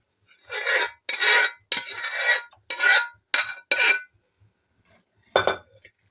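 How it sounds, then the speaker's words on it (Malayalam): A cooked lentil and tomato mixture for rasam is mashed in a pot with a series of short rough scraping strokes, about seven bursts in an uneven rhythm, close and fairly loud with no talk. "പരിപ്പ് തക്കാളി കൂട്ടൊന്ന് ഇങ്ങനെ ഉടച്ച് കൊടുക്കുക."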